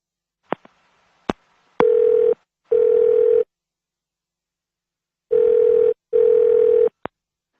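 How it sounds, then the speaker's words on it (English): Telephone call audio: a few short clicks, then a steady dial-type tone repeating in four even bursts with pauses between, close and clear, no talking. "Now listen to the telephone call and be ready to answer questions 8 and 9."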